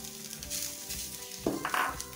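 Chicken hits a frying pan of sautéed masala for chicken and tapioca cutlets, a close, bright sizzle with a couple of clinks and stirring scrapes, no voices.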